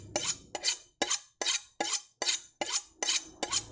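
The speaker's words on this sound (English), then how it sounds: "Same thing with our knife and our sharpener thing, the honing stick." A kitchen knife is drawn along a honing stick in eight crisp, evenly spaced scraping strokes, each a bright metallic rasp roughly half a second apart, close and clear with no talking.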